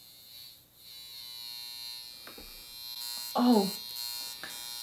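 A small beauty gadget for mature skin buzzes steadily against the skin, a quiet hum like a soft blow dryer, close by with a brief spoken exclamation over it.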